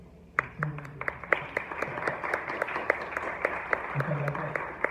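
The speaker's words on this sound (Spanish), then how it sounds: "recibamos con un aplauso al doctor Arturo Secundino" Audience applause greeting Dr. Arturo Secundino at a Spanish-language academic talk on communicology, with a few distinct claps at first that swell into steady clapping, joined by a voice partway through.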